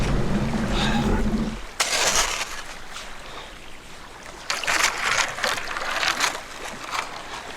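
A narrow, long kayak gliding on water near Florida's spoil islands, with paddle splashes and swishing water in bursts, close and moderately loud.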